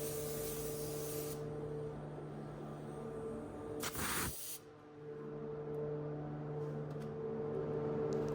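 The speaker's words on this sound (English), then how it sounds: "Spraying it with my absolute favorite gun ever, the Iwata Supernova WS 400" Iwata Supernova WS 400 spray gun laying PPG DC 4000 clear coat on a Mazda NC Miata, a steady close hiss that breaks off briefly midway, then resumes over a constant background hum.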